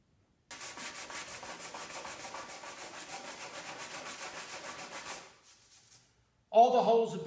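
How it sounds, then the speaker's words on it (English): Steady back-and-forth sanding of dried resin on a Lamborghini Countach replica body scrapes continuously for about five seconds, close and even, then stops before a voice begins speaking. "The resin has dried. I'm going ahead and sanding it now."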